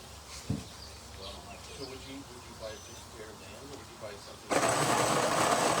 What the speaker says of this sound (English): To immediately grind and brew an 8-ounce cup.